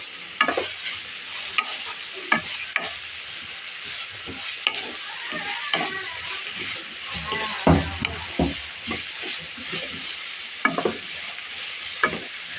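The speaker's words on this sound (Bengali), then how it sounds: "পেঁয়াজগুলোকে একটুখানি ভেজে নেব বাদামি কালার করে নেব" Onions fry to brown in a pan for samosa filling under a steady sizzle, punctuated by frequent sharp scrapes and taps of a spatula stirring them, close and clear with no talk.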